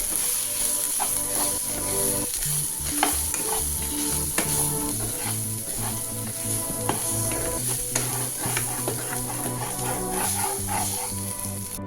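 Chili powder and spices are stirred into tomato masala frying for egg bhurji, with steady close sizzling and frequent spoon scrapes against the pan throughout, and no talking over it.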